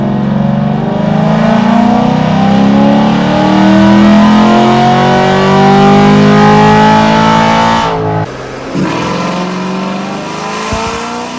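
A cammed C7 Corvette engine revs up in 5th gear on a dyno, a loud, steady climbing roar building for about eight seconds before abruptly cutting off, then a lower idle rumble.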